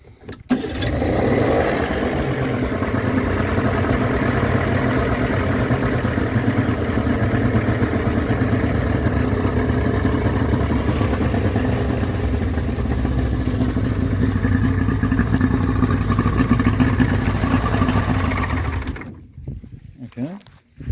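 A Mercury two-stroke 40 hp outboard that won't idle properly runs loud and close for almost twenty seconds with a steady buzzing drone, then abruptly cuts out into near silence.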